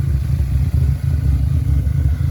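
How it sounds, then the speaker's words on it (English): A steady, loud Audi A5 exhaust idles close by at night, the low rumble pulsing with a slightly uneven beat from an engine misfire and continuing without pause. "The exhaust on this car sounds nice"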